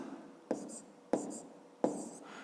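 Pen writing by hand on paper during a fifth-grade maths exercise: three short scratchy strokes at a steady pace, faint and close, with no talk over them.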